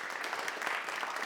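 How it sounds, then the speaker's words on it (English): Brief burst of audience applause at a summit, dense and even clapping from a seated crowd, moderately loud throughout. "give him a big round of applause."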